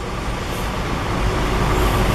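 A Scania coach bus pulls into a Brasília bus station, its engine rumbling steadily over a broad roar of nearby traffic.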